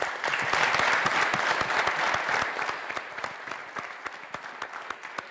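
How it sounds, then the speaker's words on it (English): Applause from an audience, full and sustained at first, then thinning out into scattered individual claps toward the end. "let's give these guys a round of applause"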